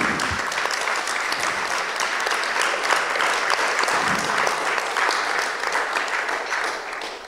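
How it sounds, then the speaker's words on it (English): About 200 people applaud in a room at a conference on peace and disarmament: dense, steady clapping that holds at an even level for the whole stretch with no talk over it. "You have heard the applause of these some 200 people here in the room."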